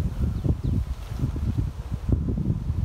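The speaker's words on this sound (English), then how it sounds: "So it's fairly windy right now" Steady low rumbling wind buffets the microphone throughout while a Tarptent Rainshadow 3 tent is pitched outdoors, with gusty surges and a faint rustle on top; no voices.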